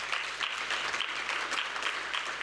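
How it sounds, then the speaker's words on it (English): Audience applause at a congress closing ceremony, a sustained, even roar of many hands clapping in a large hall, steady throughout and moderately distant. "This we need to clap for ourselves."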